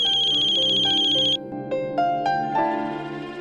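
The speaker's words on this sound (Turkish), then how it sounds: "Ben telefona bakayım." A telephone rings in a Hindi drama scene with a steady electronic ringtone, loud and close, then it gives way to a bright melodic chime tune with no talking.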